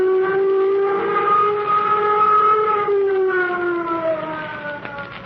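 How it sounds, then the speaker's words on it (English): A flight warning siren sounds in an old radio drama: one loud, sustained wail that holds and slowly sags in pitch for several seconds, alone without voices. "Sound flight warning signal."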